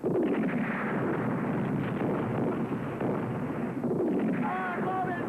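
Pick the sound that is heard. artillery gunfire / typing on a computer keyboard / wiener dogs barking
artillery gunfire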